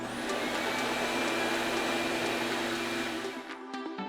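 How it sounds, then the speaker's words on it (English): A ThinAir hand dryer motor runs at a reduced speed setting, giving a steady, fairly loud whirring blow with a constant tonal hum that stays even throughout and then cuts off near the end. "Dialing down the motor results in less power and air velocity and is therefore"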